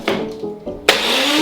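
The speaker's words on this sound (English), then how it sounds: "I'm using a NutriBullet, but whatever blender you have for your steri stumpy." A NutriBullet blender blends a cocoa smoothie with ice: a loud, close whirring motor that dips, then surges back to full power and holds there.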